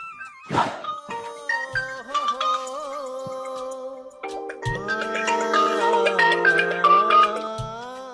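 A mobile phone ringtone plays a chiming electronic melody right after a soft thunk, its notes stepping and sliding as the tune grows fuller and louder near the end.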